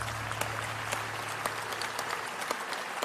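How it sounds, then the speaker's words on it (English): Hall of fame ceremony audience applauds a 2019 university sports inductee, a continuous wash of many hands clapping at a moderate, even level. "Please join us in a round of applause for 2019 inductee, Pete White."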